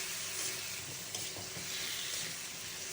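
Fish and tomato curry sautés in a pan, giving a dense, steady sizzle with soft stirring scrapes, close and continuous, with no talk.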